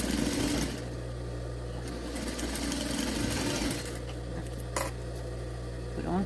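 A sewing machine stitches bias binding onto a patchwork fabric keychain, giving a close, steady mechanical whir that runs almost unbroken, with a brief click near the end and no talking.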